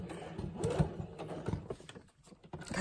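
A sewing machine stitching fabric tag pockets, running in short mechanical bursts with a rapid clatter, close and moderately loud, pausing briefly near the end before starting again.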